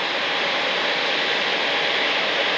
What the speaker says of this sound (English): In blue on the Embraer E190 that's pulling in